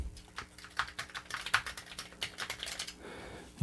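Fingers type on a Commodore C64 keyboard in a fast, uneven run of close plastic key clicks, then stop abruptly near the end.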